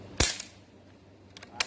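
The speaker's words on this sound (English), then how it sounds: "We're going to shoot the piece of steel" Three sharp pops from an Umarex Ruger 10/22 air rifle fired at a steel target outdoors, one louder shot followed by two quicker ones, with no talking.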